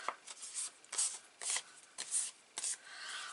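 Paper for a wedding album being folded and creased by hand, a series of quick crisp rustles and swipes in short bursts, close and fairly soft.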